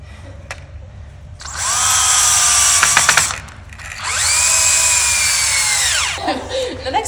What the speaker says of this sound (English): goes pretty fast with the cordless drill.